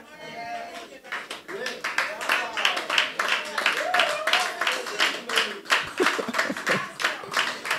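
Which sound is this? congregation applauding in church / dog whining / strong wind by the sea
congregation applauding in church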